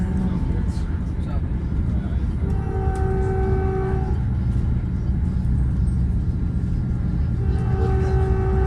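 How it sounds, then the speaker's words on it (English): Caltrain commuter train rolling into a station stop, a steady loud rumble of cars with sustained horn-like tones sounding twice, heard from on board with faint voices in the background. "there's Caltrain 152 pulling in to make its scheduled stop"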